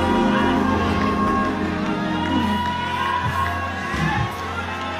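A crowd cheers and applauds musicians, a dense, loud, sustained roar of voices and clapping that fills the whole stretch with only slight swells and dips.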